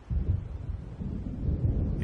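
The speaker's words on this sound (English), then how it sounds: "It seems there's a storm coming." A low, rolling rumble of thunder from an approaching storm in the video game Alan Wake, steady and moderately loud for about two seconds with no voices over it.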